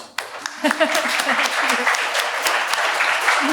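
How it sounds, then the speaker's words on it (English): A small group claps and applauds at an alumni and graduate thesis mixer, a dense, steady patter of hands close by that starts abruptly and continues, with a few voices mixed in. "Why am I clapping?"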